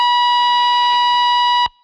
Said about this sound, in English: taking the whammy at 2 octaves up and just doing harmonics and just kind of stretching those sounds out